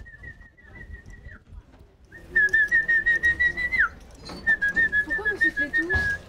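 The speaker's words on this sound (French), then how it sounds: "Pourquoi vous sifflez tous ? Pour les faire pisser." Shrill sustained whistles from several people at horses, a long steady tone then repeated pulsing whistles, loud and close over a murmuring outdoor crowd.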